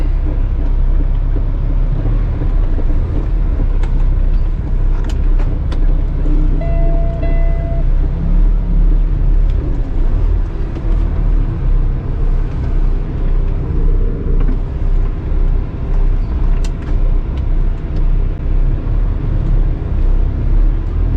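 A semi truck parks with a trailer attached, producing a loud, steady low diesel rumble heard from inside the cab, with brief faint squeaks and clicks over the drone and no talking.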